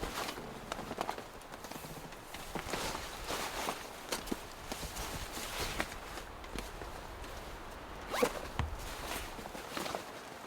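Full-length zips on waterproof over trousers are pulled open and closed in a series of quick rasping strokes, close by, with rustling fabric and shuffling movement between them at a tent campsite on a mountain in a rainstorm.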